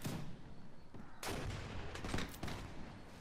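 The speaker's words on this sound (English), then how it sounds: "Is that the cavalry shooting?" Rapid volleys of cavalry gunfire in the video game Mount&Blade crackle and pop in bursts, dense and continuous, with a sharp loud crack partway through.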